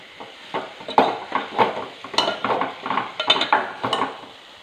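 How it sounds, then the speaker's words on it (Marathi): A spoon stirs food around a metal pot in quick, repeated scraping and clinking strokes, close and fairly loud, with a faint sizzle beneath and no talking. "आता हे आपण ह्यात घालणार आहोत. ढवळून घेऊयात आपण."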